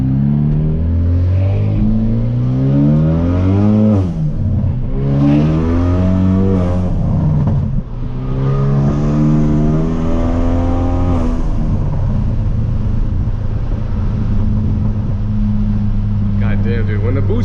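A Hyundai Veloster Turbo with full bolt-ons and a tune pulls hard through several gears, the engine note rising loudly then dropping at each shift, heard from inside the cabin, with a voice talking over it.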